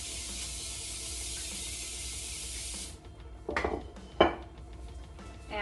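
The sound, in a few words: greasing and handling a bread pan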